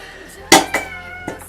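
A pet cat yells nearby in a couple of short, loud meows with a brief gap, then a fainter cry follows.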